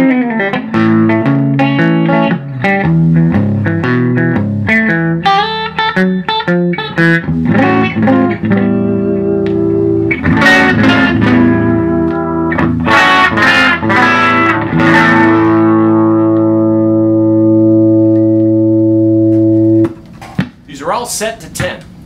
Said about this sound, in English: what you heard there is the drive that a Gibson will do, and it tends to distort the amp a lot quicker